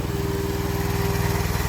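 A new tractor's engine runs steadily up close, a loud, even mechanical chugging with a regular pulsing beat and a constant tonal hum.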